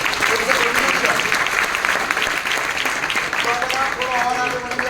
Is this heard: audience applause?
yes